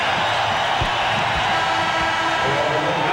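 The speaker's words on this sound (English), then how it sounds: "And now the crowd on their feet" A basketball arena crowd is on its feet cheering during a 1996 Lakers versus Warriors NBA game, as Magic Johnson returns. The roar is steady, loud and continuous, with a commentator talking over it.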